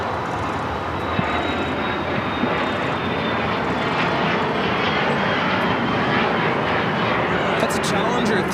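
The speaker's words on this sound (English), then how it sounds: "Challenger 300 taking off to Mountain View with Vista America 534." A Bombardier Challenger 300 business jet takes off at LAX with a broad, continuous engine roar that holds steady for several seconds, heard at a moderate distance.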